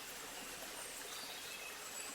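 Small streams flow near a village with a soft, steady babbling wash, faint and continuous, with no voices.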